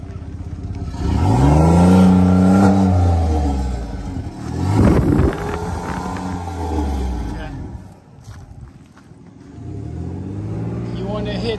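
Truck engine revved during an exhaust check at a roadside vehicle inspection, several rising and falling revs close by, with people talking around it.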